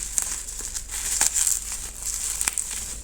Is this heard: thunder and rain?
no